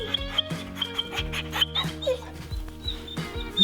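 Dogs yip, whimper and bark excitedly at close range in a lively, uneven burst, with a few higher whines mixed in.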